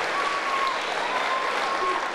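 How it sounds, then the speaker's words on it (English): High school students clap together in a gym or hall, a steady wash of many hands at even loudness throughout the short burst, with no voices over it. "go ahead and clap for the brother"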